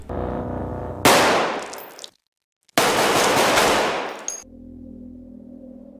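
Rapid automatic gunfire in the horror film Terrifier, two loud dense bursts of shots split by a short silence, followed by a low droning hum.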